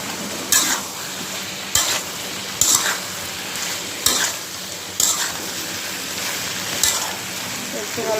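Potatoes and lati with shrimp are stirred and fried in a pan, a steady sizzle broken by about seven sharp scraping stirs at regular intervals, close and fairly loud.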